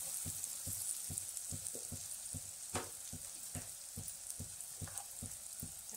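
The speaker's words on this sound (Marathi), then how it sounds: "सर्व मसाले तेलामध्ये चांगले मिक्स करते." Garam masala and Agri Koli masala frying in hot oil for a village-style crab curry, a steady close sizzle with regular rhythmic scrapes of a spoon mixing the spices, no voices.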